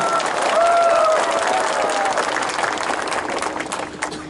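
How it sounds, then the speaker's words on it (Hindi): A rally crowd applauds loudly and steadily for the whole stretch, a dense wash of clapping that slowly thins toward the end, with a brief voice at the start. "आप अपने आप को भी थोड़ा सा ताली देकर अपने आप को भी क्रेडिट लीजिए"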